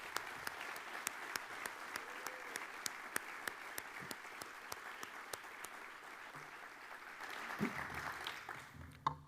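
An audience at Iowa State's annual presidential address applauds to welcome new members of the community, a steady mid-distance round of clapping with sharp individual claps standing out, fading near the end.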